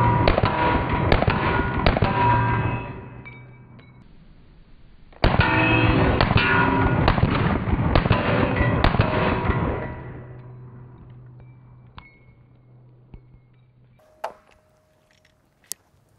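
A Glock 19 pistol fitted with a Strike Industries slide compensator fires two quick strings of sharp, crackling shots outdoors, each followed by a fading echo and a few scattered clicks afterward.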